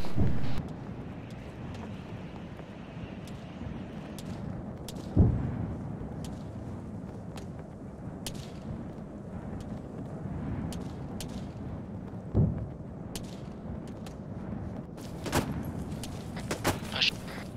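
Mortar fire in the military game Arma 3 sounds as a few deep booms, well spaced and somewhat distant, over a steady windy rumble, with other sharp reports breaking in now and then.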